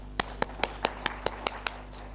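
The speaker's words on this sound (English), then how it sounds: "A big hand clap for Lucy." Hand claps ring out at a conference session, a steady, evenly spaced run of about nine sharp claps over a couple of seconds, fairly close and with no voices over them.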